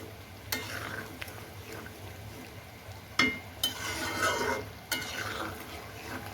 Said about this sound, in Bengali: এপিট ওপিট নাড়াচাড়া করে দিই